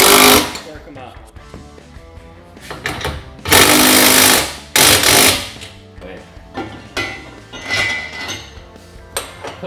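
Bolts being tightened on an ATV/UTV trailer axle during assembly with a 19 mm tool, sharp bursts of rapid mechanical rattling and metallic clinks in close, uneven spurts.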